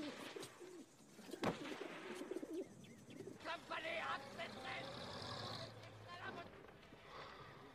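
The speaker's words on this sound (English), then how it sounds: "This is a good little English carrier pigeon." An English carrier pigeon coos softly in a World War I war film scene, its murmuring calls mixed with rustling, a sharp knock and voices talking nearby.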